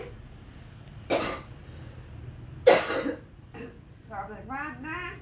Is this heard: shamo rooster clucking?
no